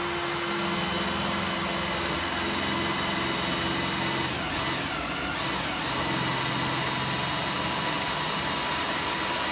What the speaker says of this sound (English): I'm gonna drill a new hole because it has more metal over in this area.